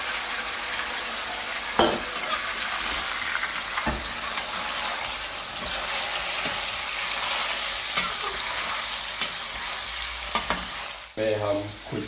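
Chicken fries in hot oil for a dhaba-style koyla karahi, a continuous close sizzle broken by sharp clinks of a spoon against the pan and a brief splash near the end.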